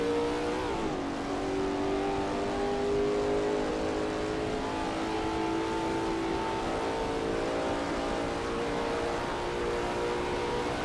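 Lola T70 MkII Spyder race car engine at Kyalami '67 in a racing video game, a steady loud drone held through the run with a brief lift in pitch near the start, no talk.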